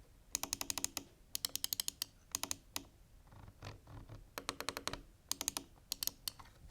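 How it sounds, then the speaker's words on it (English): Optical switches on a Razer Viper mouse clicking in fast bursts of crisp, light clicks with brief pauses between groups, quiet and close with no talking. "to give you guys a better idea of how these optical switches sound"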